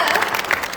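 Brief burst of audience applause, dense overlapping claps from a crowd at steady volume.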